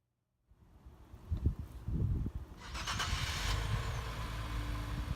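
A 2017 Infiniti Q60 starts up and idles as it is backed into a garage bay, a steady engine hum after a brief start with some clatter, fairly close.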